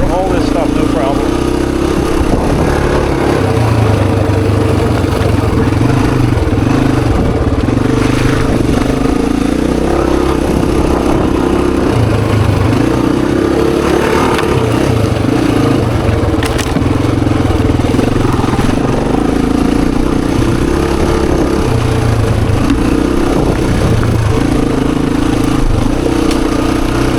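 A Honda XR250 or XR400 dirt bike engine pulls steadily along a trail loop, a continuous loud mid-pitched drone with throttle swells and clatter, close and unbroken throughout.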